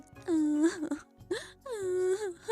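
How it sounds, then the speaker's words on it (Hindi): A cartoon kite bird in a Hindi children's animated story wails loudly in a voiced, moaning cry, three drawn-out sobbing bursts separated by brief gaps, close and prominent with no other sounds. "जोर जोर से रोने की आवाज उन दोनों को सुनाई देती है।"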